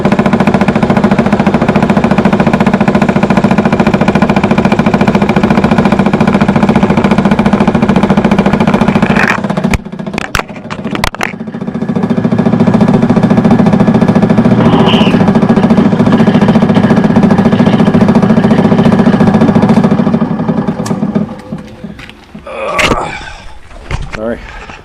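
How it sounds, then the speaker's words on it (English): Power drill boring holes through four stacked back panels screwed down with nuts, a loud steady grinding drone broken by a short pause near the middle, then resuming before tapering off with clattering at the end. "I was drilling this hole through 4 back panels."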